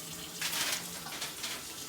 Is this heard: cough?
no